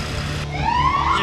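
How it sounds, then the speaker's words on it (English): A loud, close ambulance siren rises in pitch in a short, sweeping wail, heard alone without voices. "Oh, the siren!"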